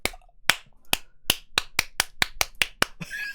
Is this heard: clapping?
yes